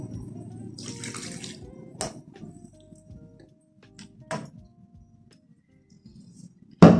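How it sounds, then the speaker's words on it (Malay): Hot water is poured into a cooking pot of coconut curry in a short splashing burst, followed by faint clinks and knocks of utensils against the pot in a quiet kitchen. "Kita tambah air panas."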